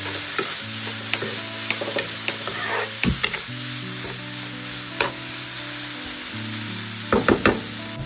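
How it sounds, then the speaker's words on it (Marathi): Roasted, cleaned dried shrimp (jawla) stir-fry in spice masala for a kudyachya shenga bhaji, a soft close sizzle under occasional sharp scrapes and taps of a ladle against the pan. "जो भाजून स्वच्छ करून ठेवलेला जवळा आहे तो ह्याच्यामध्ये घालणार आहे आणि हा सुद्धा 1 मिनिटभरसाठी ह्या ज्या मसाल्यामध्ये छान असा परतून घेणार आहे"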